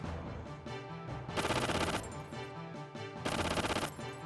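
Rapid-fire gear attack in the Xenogears video game, heard as dense bursts of mechanical gunfire repeating in loud, sustained volleys over game music, with no talking.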